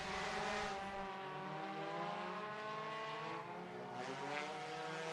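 Race cars, Open Hornets class, run around Sunset Speedway Park in a heat race. A continuous loud engine drone carries harmonic whine that shifts in pitch as the cars pass, with no voices over it.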